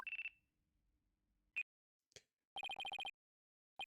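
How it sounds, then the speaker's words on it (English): Phone ringing in the Phoenix Wright: Ace Attorney - Dual Destinies video game, a bright electronic trill that comes in short rapid bursts separated by silence, clean and close with no talk. "Looks like I have a phone call."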